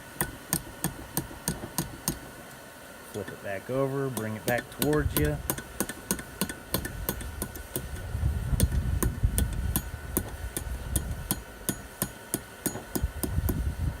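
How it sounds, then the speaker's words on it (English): Sharp, ringing hammer blows strike hot steel over the edge of an anvil in a steady rhythm, forging a hook, close and loud, with someone talking briefly partway through. "Hammer down."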